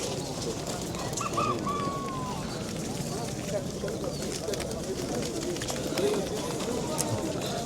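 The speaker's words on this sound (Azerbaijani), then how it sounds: "Burada da hər nişanda quş vardı demək olar ki." Pigeons and doves coo softly at an outdoor bird market in Sabunchu, their low calls scattered among crowd murmur and nearby talking, with occasional faint chirps from other birds.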